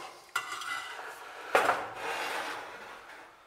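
Spoon or utensil scraping and stirring potato soup in a metal pot, with a sharp clank near the start and another in the middle, then steady soft rubbing and scraping, close and fairly quiet, no talking.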